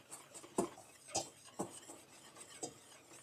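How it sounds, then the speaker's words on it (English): A whisk stirs chocolate muffin batter in a bowl, making quiet, spaced clinks and soft scrapes against the sides, about five distinct taps, with no voices. "So now we just whisk all of that together"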